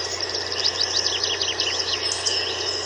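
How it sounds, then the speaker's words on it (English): Black woodpecker calls played from a forest sounds website: a rapid series of bright chirping calls running steadily across the clip over a faint constant hum, no voices. "So here we have a black woodpecker."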